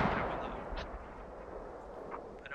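Mortar rounds landing in a Squad military match, a rumbling distant boom at the start that fades, followed by scattered faint thuds and cracks over a low battlefield wash.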